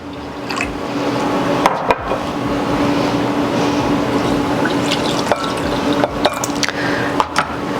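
Water poured into a pot over sugar, about half a cup of each, for a lavender lemonade syrup; a steady close splashing fill runs the whole time with a few small clinks and drips, no talking.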